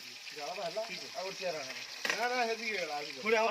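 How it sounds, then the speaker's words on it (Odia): Paneer cubes fry in a pan for paneer butter masala, a steady crackling sizzle running beneath continuous voices that carry on throughout. "ପନିର ଭଜା ଚାଲିଲା ଏବେ।"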